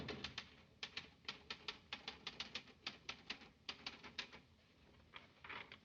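An old manual typewriter in a 1940s office clatters in fast, uneven bursts of sharp key strikes, crisp and fairly close, with no voices over it.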